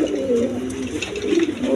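A black pigeon coos nearby, giving low, soft rolling calls that repeat steadily, with faint background noise.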